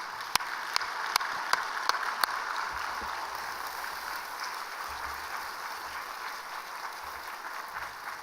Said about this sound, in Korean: 우리 광 목사님 나오실 때 큰 박수로 환영해 주시기를 바랍니다.